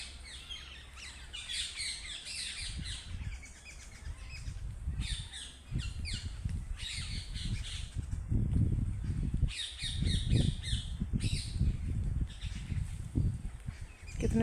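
A peacock gives loud, harsh squawking calls that repeat in short bursts over a low outdoor rumble at a shrine garden, fairly near.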